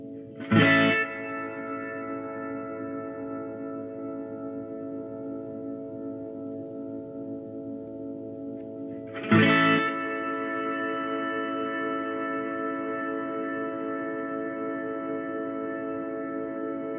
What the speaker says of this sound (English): That kind of has like a beacon sound, like a pulse.